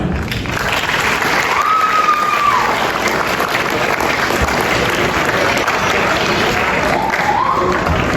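An audience at an 8th grade celebration applauds steadily for student award winners. The clapping is loud, dense and close, runs the whole time without a break, and a faint voice is heard over it.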